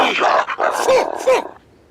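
A dog in an animated cartoon barks and yips loudly and up close, a quick run of several sharp barks within about a second and a half before falling silent.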